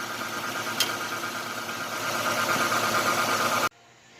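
A 2015 Lexus GS350 F Sport engine idles steadily and loudly up close after an oil and filter change, a smooth continuous hum that cuts off abruptly near the end.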